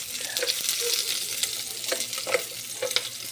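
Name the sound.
meat frying in oil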